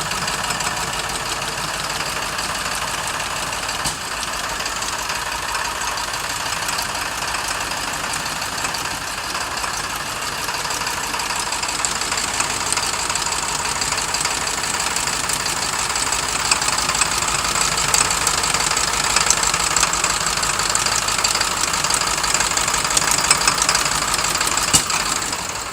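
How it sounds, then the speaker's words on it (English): A car engine running rough with a suspected bad injector, knocking and vibrating steadily at close range, growing somewhat louder over the second half, with no talking. "Something not sounding really good. Looks like we have a badass injector."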